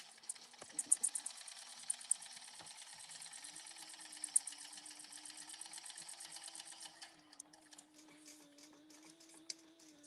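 A sewing machine top stitches a fabric bag with a fast, steady mechanical patter, close and fairly quiet, then slows to a lower whir with faint clicks near the end; no one talks.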